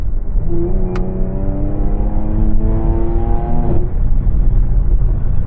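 A Jaguar F-Type engine revs hard under heavy throttle, its pitch climbing steadily over a deep rumble, loud and close throughout.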